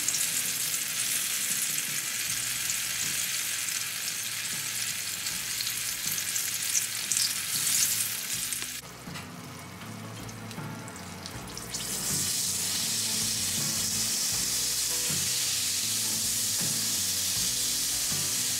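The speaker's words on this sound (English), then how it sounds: "I don't recommend you to touch the food immediately after putting them in the oil." Persimmon spring rolls fry in hot oil with a steady, dense sizzle that runs throughout, dipping briefly in the middle before returning at full strength.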